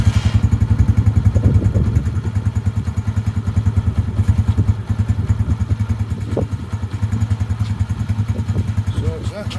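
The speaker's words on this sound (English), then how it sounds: "why don't I just start the engine and see what that does to it" A motorcycle engine starts and settles into a loud, close idle with a rapid, steady thumping pulse and slight rises and dips in level, with no voices over it.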